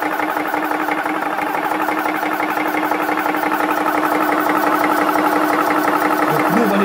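An Aegon PCP high-pressure air compressor fills an air rifle toward 200 bar, making a loud, steady mechanical drone with a rapid pulsing rattle that runs unbroken and close throughout.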